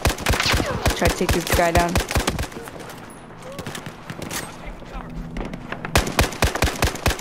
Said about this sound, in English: Let's shoot.